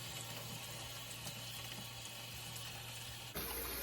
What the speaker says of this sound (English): And using cool water, I'm gonna rinse them both off.